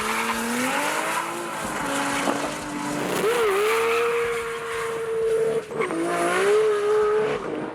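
An R33 GTS-25T race car converted to all-wheel-drive GTS-4 running a drag pass on a runway, its engine roaring loud and sustained with rising pitch through gear changes and brief dips between shifts.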